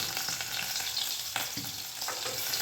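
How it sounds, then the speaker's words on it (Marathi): Onion sizzling and crackling in three spoons of hot oil, a steady frying hiss with a few stirring scrapes. "तीन चमचे आपण तेल टाकलं यामध्ये आणि कांदा टाकते थोडा आधी"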